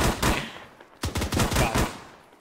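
Gunfire in the military shooter Arma 3: a couple of close shots, a short pause, then a rapid automatic burst of several cracks, loud and close with no talking.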